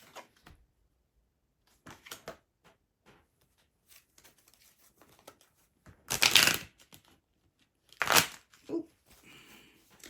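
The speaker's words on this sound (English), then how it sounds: "That was the worst shuffle ever." Scattered soft taps and papery rustles, then two louder riffling bursts of tarot cards being shuffled close by, one longer than the other.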